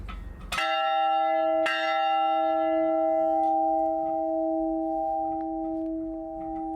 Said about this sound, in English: source a beautiful old bronze bell, and we installed it, and it actually works.